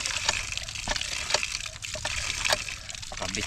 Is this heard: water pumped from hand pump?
yes